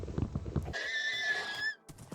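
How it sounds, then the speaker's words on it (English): A horse neighs in a video game: a single loud, shrill whinny with a wavering pitch that falls away, preceded by low clopping hoof sounds and followed by a brief thud. "Okay, we have a horse now,"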